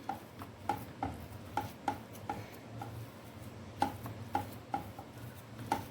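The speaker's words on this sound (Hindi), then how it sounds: "इसे मैं अच्छे से अब इसे मस लूँगी स्पैचुला से" Spatula pressing and mashing gulab jamun mixture in a pan over a low flame, giving soft irregular taps and scrapes at a close, quiet level with no talking.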